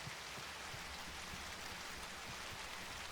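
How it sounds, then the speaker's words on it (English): Rain from the dynamic weather system in the Ashes of Creation video game pours as a constant dense hiss, with scattered drop ticks and no talking. "There's the dynamic weather system is finally working in game now."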